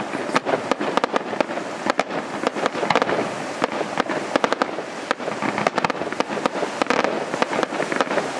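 Carnival fireworks crackle and bang continuously at Peel, Isle of Man, with many sharp bursts overlapping in a dense, loud barrage with echoes.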